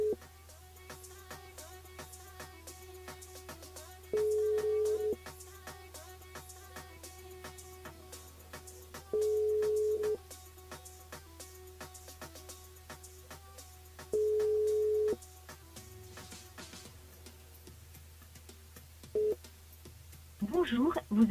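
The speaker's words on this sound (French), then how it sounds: "Nous rappelle Jonathan sur le standard." A telephone call rings out on a radio studio line during a live broadcast: a ringback tone repeats four times at steady five-second intervals over a faint background, followed by a short burst of noise at the end.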